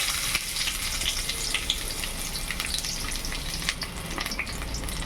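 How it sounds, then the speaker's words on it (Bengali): Chopped onion hitting hot mustard oil in a kadai, a loud, dense, crackling sizzle that holds steady throughout with fine spitting pops and no talking. "পেঁয়াজটাকে ভালো করে লাল করে ভেজে নেব।"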